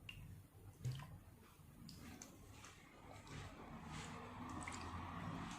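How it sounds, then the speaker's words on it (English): Water poured into a plastic ice tray, a soft, faint trickle with small splashes and drips, continuous and close, with no talking. "I have taken an ice tray and I am going to fill this with water"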